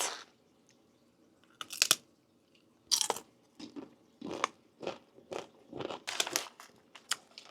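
Crisp, loud crunches of someone biting and chewing tortilla chips with jalapeño salsa up close, irregular bites spaced through a quiet room.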